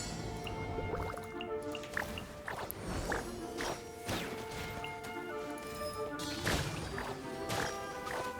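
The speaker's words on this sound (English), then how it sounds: "Water bag barrier." Water bag barrier skill effect in the video game Genshin Impact, a series of wet dripping splashes and squishy pops at irregular intervals over faint game background sound, no talk.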